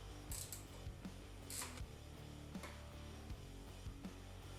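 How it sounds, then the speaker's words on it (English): Jubilee hose clips being tightened on the radiator hoses of a Husqvarna TPI motorcycle fitted with Samco hoses, giving faint, repeated ratcheting clicks in an irregular rhythm at low level. "it was time to start tightening everything up, making sure the Jubilee clips were in the correct place"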